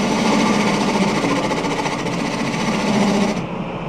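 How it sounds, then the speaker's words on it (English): Wood lathe spinning a bowl blank while a half-inch bowl gouge cuts, giving a dense, steady rasping whir that holds constant and then drops slightly in brightness near the end; close and loud with no talking. "Working on it with a 1/2-inch bowl gouge"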